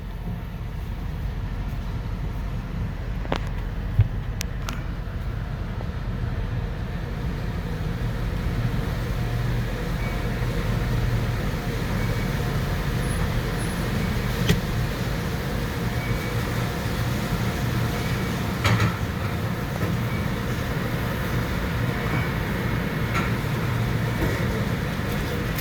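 An automatic car wash runs with a car inside, heard from within the vehicle as a continuous low rumble and hiss of machinery, with a few faint knocks and no talking.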